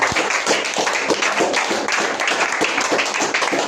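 A worship congregation claps in a steady rhythm, dense, close hand claps mixed with scattered applause filling the room continuously.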